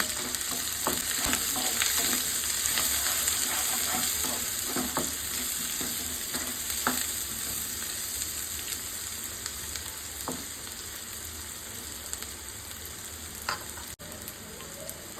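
Curry leaves and chopped coriander fry in a pan, a continuous close sizzle broken by scraping stirs and occasional louder pops, without any voices.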